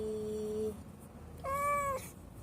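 A mother cat meows twice, the first a steady mid-pitched call and the second a brighter, rising meow after a short pause, close to the microphone in a quiet room.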